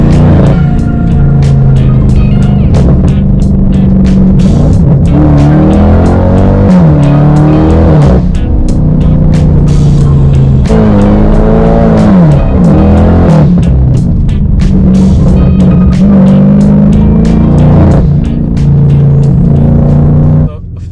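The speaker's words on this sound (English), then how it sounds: "So let's go and take the car for a drive now." A tuned 600 hp BMW F10 550i drives hard, its engine note climbing and dropping through repeated gear shifts with brief tire squeal, loud and close throughout.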